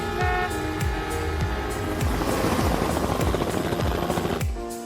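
A helicopter in an animated scene gives off a steady, loud rotor chop, regular low thumps repeating about every half second under a dense whirring drone, with no talking.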